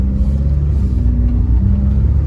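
A Honda City sedan with an automatic gearbox pulls ahead under acceleration, its steady low engine rumble and road drone filling the whole stretch, close and continuous with no voices.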